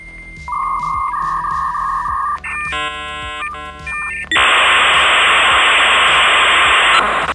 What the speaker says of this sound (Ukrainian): Хто пам'ятає ці звуки модему?